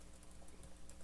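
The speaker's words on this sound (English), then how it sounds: "Why am I typing like this?" Fast, quiet typing on a computer keyboard, a rapid patter of soft key clicks over a steady low hum.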